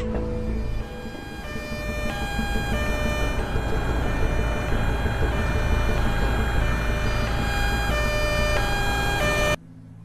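An ambulance siren wails loudly and continuously, its tone stepping up and down steadily in the foreground before cutting off abruptly near the end.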